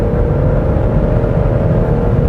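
Turbocharged 2.5-litre engine of a 2022 Genesis GV70 2.5T Sport AWD pulling under acceleration, a steady, loud humming drone with a firm tonal whine and low rumble, heard alone without talk.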